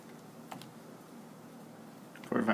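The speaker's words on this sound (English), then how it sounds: "Then type in the equation" Keys tapped while entering an equation on a calculator keypad, a few faint, sparse clicks followed by a slightly louder cluster of presses at the end, close and quiet.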